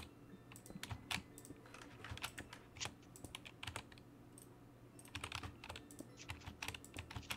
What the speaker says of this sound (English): I can hear you shuffling the cards.